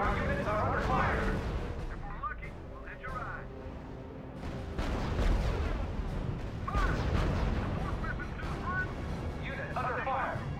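Gunfire and artillery hit units on a World War II battlefield in the strategy game R.U.S.E, with repeated bursts and booms rolling under layered radio chatter and game sounds.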